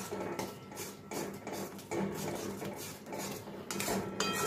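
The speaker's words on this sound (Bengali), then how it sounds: "দিয়ে খুব ভালো করে মশলাগুলো কিন্তু আবারও কিছুক্ষণ কষিয়ে নেব।" Dry spices with a little water are stirred in a pan for a potato and paneer curry, giving repeated metallic scrapes and clinks of a spoon against the pan, steady and close, with no talking.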